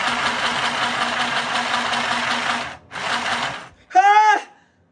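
A sewing machine stitches fabric for a high-waisted skirt in two runs of steady rapid mechanical whirring separated by a brief pause, followed by a short voice.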